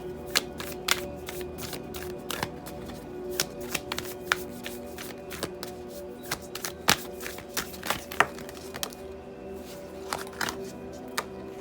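A deck of tarot cards is shuffled again and again indoors, giving quiet, crisp riffling snaps in irregular bursts, close and alone without talk.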